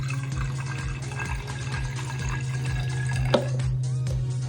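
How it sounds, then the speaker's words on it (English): Vinegar is poured into a measuring container before it goes onto a baking soda snowman, making a steady liquid trickling and filling sound over a faint rhythmic background pulse, with no talk. "So I'm pouring some vinegar, 200 milliliters or 1/2 cup."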